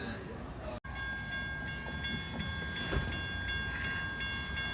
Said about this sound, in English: Amtrak Northeast Regional number 195 is now coming in.